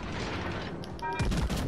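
Warship guns fire in the naval combat game World of Warships: Legends, a sudden loud burst of booming shots near the end over steady game noise, with faint talk nearby.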